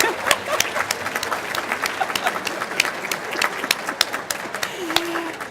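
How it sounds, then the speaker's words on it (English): An audience claps at a Parkinson's educational symposium, scattered but steady applause with distinct individual claps in a room. "we need to hear more applauding"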